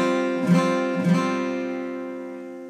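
Acoustic guitar strums a C fifth chord for a song, two quick strums that ring out and slowly fade, close and alone.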